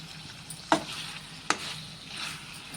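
Spiced chicken fry crackles gently in a pan as it is stirred, with two crisp spoon scrapes standing out over a quiet, continuous sizzle.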